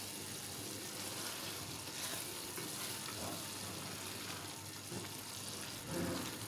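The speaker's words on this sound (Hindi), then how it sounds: "तो बस इसे मैं मज़ीद भून लूँगी थोड़ा सा" Torai (ridge gourd) being fried further in a pan to dry off its water, giving a steady, even sizzle and hiss with occasional soft stirring scrapes, moderately close and continuous, with no talking.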